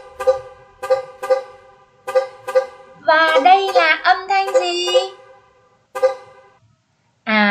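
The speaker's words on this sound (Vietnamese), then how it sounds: "Tiếng ô tô, tiếng còi ô tô." A car horn honks in several short toots, then a voice asks a question over it, followed by one more honk, loud and close.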